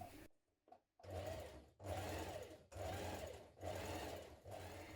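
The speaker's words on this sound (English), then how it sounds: "from the outside we're going to stitch it, we're going to top stitch it on the edge 6mm away from the edge" A sewing machine runs in several sustained bursts with brief pauses between them, topstitching a pyjama pocket edge 6mm from the fold; the motor's steady whir is loud and close, with no talk over it.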